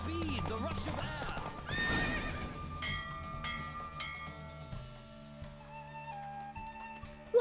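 Galloping horse hooves clip-clop rapidly in a race in The Witcher 3, with a loud whinny early on over game music and a spoken voice.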